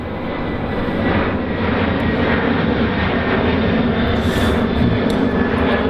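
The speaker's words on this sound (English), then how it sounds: "as you can probably hear the plane flying over" A loud, steady roar of an airplane passing overhead near Sydney Airport fills the whole stretch, a broad rushing drone with no talking.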